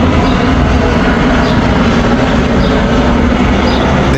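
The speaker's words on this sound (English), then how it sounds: "Oh wow, huge airplane flying low." A huge airplane flying low overhead near an airport, a loud, steady, broad roar that fills the whole stretch without pause, close and overwhelming, with no voices.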